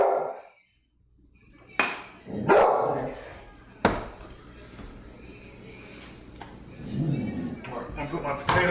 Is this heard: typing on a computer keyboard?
no